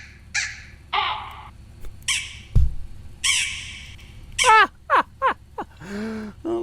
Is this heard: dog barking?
no